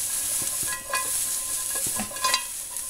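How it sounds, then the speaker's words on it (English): Garlic sizzles in a pan while a utensil stirs it, a steady close fry with several soft scraping strokes and taps, no talking. "you can see the garlic starting to brown"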